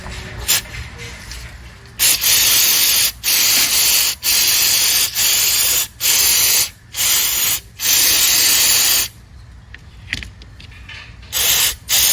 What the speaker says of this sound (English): only use mass airflow sensor cleaner. Do not use anything else because it can leave a residue on the sensor